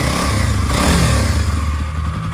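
A 2009 Kawasaki KLX250s dual sport motorcycle runs close by, its single-cylinder engine thrumming loud and steady with a slight rise in revs near the middle.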